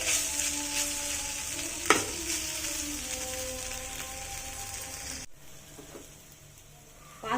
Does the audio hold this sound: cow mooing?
no